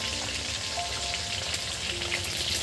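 Hilsa fish frying in hot oil, a steady dense sizzle with crackling and spattering that holds even throughout, with no voices.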